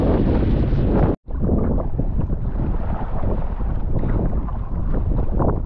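Strong wind roars and buffets the microphone steadily while kayaking on Loch Sween, with a brief dropout near the start and no talk.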